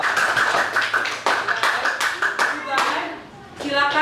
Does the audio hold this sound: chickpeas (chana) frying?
no